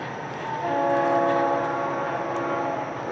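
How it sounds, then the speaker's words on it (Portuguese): A train passing by outdoors, heard as a sustained loud rumble with steady tonal horn-like hums that rise and fade, with no talking. "Legal, que tá passando o trem na hora."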